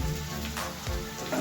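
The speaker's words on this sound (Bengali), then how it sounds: "চিকেনটা দিয়ে তো ভাজা করবো।" Chicken pieces frying in a hot pan for homemade chicken chow mein, a steady broadband sizzle heard close and alone, with a brief louder burst midway.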